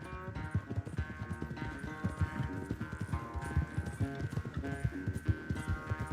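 Rapid rhythmic hoofbeats of a galloping horse in a race in the video game Red Dead Redemption 2, steady and close, layered over a busy musical backdrop.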